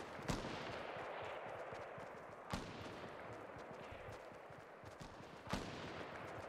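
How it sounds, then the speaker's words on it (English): Sniper rifle shots ring out in a Fortnite match, three separate sharp cracks spaced a few seconds apart over a constant rushing background of game noise. "I hear that sniper."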